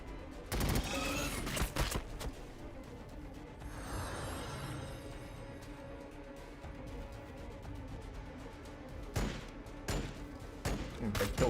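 Bolt pistols fire in Warhammer 40K Battlesector, loud bursts of shots at the start and again near the end with a quieter rumbling stretch between them.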